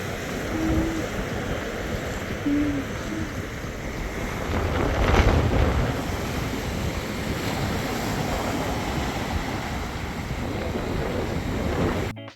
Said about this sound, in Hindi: तो मैंने सोचा थोड़ा सा लहरों का शोर भी आप लोग को दिखा दिया जाए।